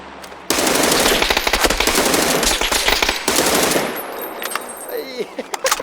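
Loud, close automatic gunfire from the video game PUBG rattles in fast, continuous bursts for several seconds, then thins out into scattered shots and faint background sounds.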